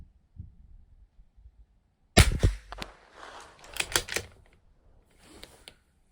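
A single sharp rifle shot from a Bergara B14R at a 200-yard steel target, followed by clicks and clattering of the bolt being worked, close and fairly loud, with quiet before the shot.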